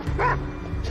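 A dog gives a single short, sharp bark up close, with a faint whine at the start and no voices.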